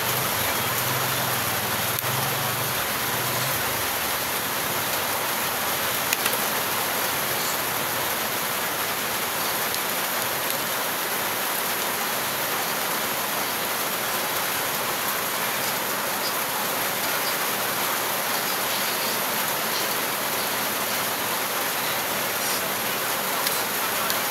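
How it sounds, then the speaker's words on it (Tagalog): Heavy rain pours down steadily and loudly throughout, a dense continuous hiss of drops with no letup. "Ayan, lakas ng ulan"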